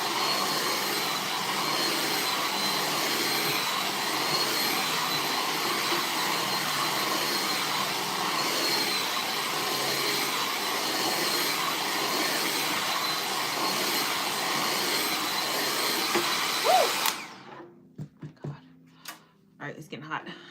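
A hair dryer blows steadily and loudly on a wig for about seventeen seconds, a continuous broadband rush, then cuts off abruptly, leaving a few scattered handling noises.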